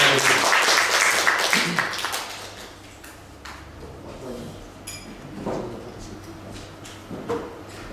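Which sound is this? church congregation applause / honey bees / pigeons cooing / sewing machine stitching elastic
church congregation applause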